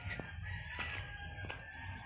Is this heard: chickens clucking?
yes